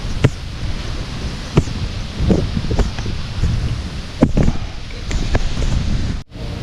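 Outdoor wind gusting across the microphone with rustling foliage in a squash garden, steady and fairly loud, punctuated by a few sharp clicks and knocks.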